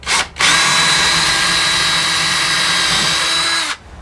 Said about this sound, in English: What I'm going to do is go at it first with a smaller drill bit,